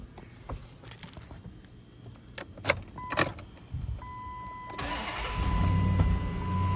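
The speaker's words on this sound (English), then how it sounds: "I will hop in it and throw the keys in to start it up." Keys jangle and clink, a chime sounds, then the engine of a 2008 Dodge Durango SUV cranks and starts, settling into a steady idle that continues to the end.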